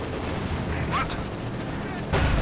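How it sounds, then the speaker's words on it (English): Machine gun fire from the Company of Heroes 2 strategy game rattles in a sustained burst amid battle noise, ending in a louder, heavier crash near the close. "Shock's been caught on the machine gun fire."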